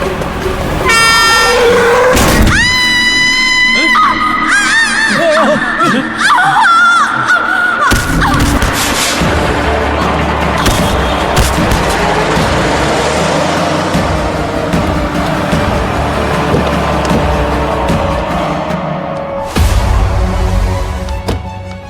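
A truck's horn blares in repeated loud blasts as the vehicle roars past up close, followed by a heavy rushing engine and road noise that swells and fades, with a dull thud.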